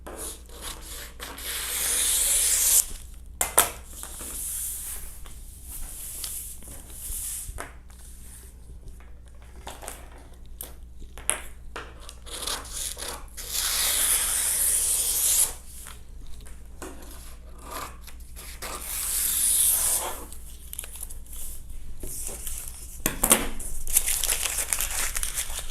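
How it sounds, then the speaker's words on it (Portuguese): Dress-sleeve pattern paper being cut and trimmed makes close, repeated rustling, rubbing and crinkling bursts, some sharp snips and handling noises, rising and falling in irregular spurts with quiet gaps between. "eu esquadrei o papel, tirei ali o excesso dele"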